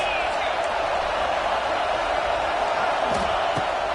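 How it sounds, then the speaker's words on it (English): Steady roar of a football stadium crowd in the NCAA 26 video game, a dense continuous wash of noise with brief faint shouts poking through near the end. "This crowd trying to make life miserable for this offense."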